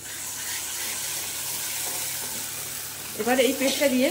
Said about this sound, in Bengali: এইবারে আমি এই পেস্টটা দিয়ে এটাকে দিয়েও ভালো করে কষে নেব।